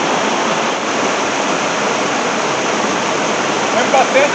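River water flows steadily and close by, a continuous broadband rush that stays even throughout with no pauses.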